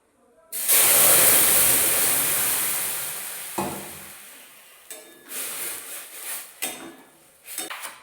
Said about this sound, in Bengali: এরপর আমি এর মধ্যে দুধ ঢেলে দেবো।